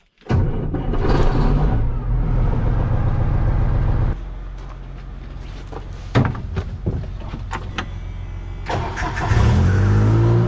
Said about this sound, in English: So I'm gonna go start the semi here.